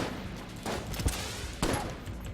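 Charged gun fire in the game Enter the Gungeon: two sharp bursts of shots about a second apart, loud and close over a constant noisy game backdrop.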